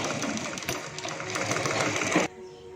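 Sewing machine stitching a readymade churidar sleeve, running a seam back over an existing line of stitching; a steady, close, continuous mechanical whir runs for about two seconds, then stops abruptly, leaving quiet room tone.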